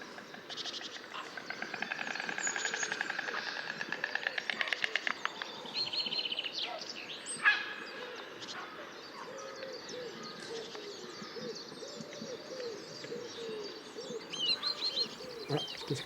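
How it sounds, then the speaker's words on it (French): A nesting colony of wading birds, about 200 pairs of five species, calls from high in the treetops of a bird reserve: a dense, continuous chorus of overlapping chirps, coos and squawks, some close and loud, with no talking. "il y a 5 espèces d'échassés qui viennent spécialement pour faire leur nid tout en haut de la cime des arbres"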